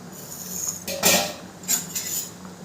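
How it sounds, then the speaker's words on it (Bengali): A metal pot lid lifted off a pan of rasgulla cooking on high heat gives two or three sharp clinks and scrapes, close and fairly loud over a quiet kitchen background. "10 মিনিট পর ঢাকনাটা এবার আমি তুলে নেব।"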